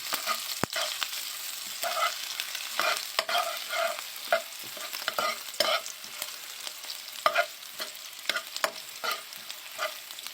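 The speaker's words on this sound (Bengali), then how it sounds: "আমার পেঁয়াজ এখানে কুচি করা আছে, পরিমাণ মতো দিয়ে দিলাম, আপনারাও পরিমাণ মতো দেবেন, দিয়ে একটু মরিচ পেস্ট একটু নাড়িয়ে নেবেন।" Chopped onion and chili paste stirred in a frying pan, with a steady sizzle under repeated close scraping strokes of the spoon and no talking.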